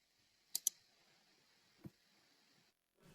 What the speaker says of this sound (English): then click the Save button